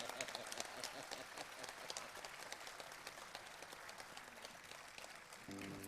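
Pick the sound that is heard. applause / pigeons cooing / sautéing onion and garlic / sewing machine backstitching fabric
applause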